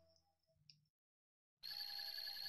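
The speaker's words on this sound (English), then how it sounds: "My phone's ringing, I'm gonna have to be back." Mobile phone ringing: after a brief silence, a loud, steady electronic ring with bright sustained tones starts abruptly and carries on close by, preceded by faint scattered sounds.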